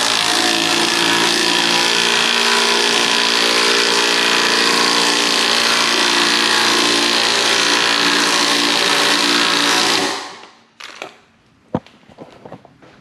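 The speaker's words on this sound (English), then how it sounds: "I use an impact gun." Impact gun working on a Can-Am Spyder front wheel during brake pad installation, a loud continuous whir lasting about ten seconds before cutting off, followed by a few faint clanks.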